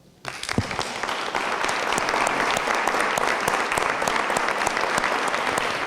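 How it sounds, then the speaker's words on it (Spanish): Strong applause from an audience at a talk on teacher education, starting abruptly after a brief quiet moment and continuing as dense, steady clapping to the end. "pedir por ella un fuerte aplauso"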